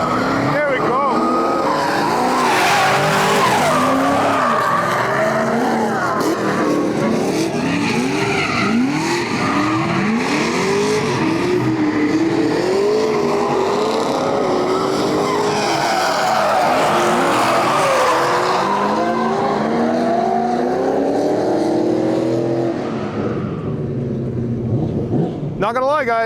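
Three V8-powered drift cars, among them a V8-swapped Nissan 350Z and a Corvette, slide together at a grassroots Midwest drift event, engines roaring loud and continuous with sustained tire squeal and rising, falling revs throughout.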